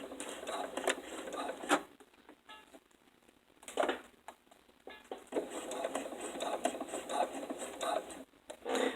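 A sewing machine stitches a zipper in short, quiet bursts of rapid whirring, stopping and starting with brief pauses for back stitching, with no talking.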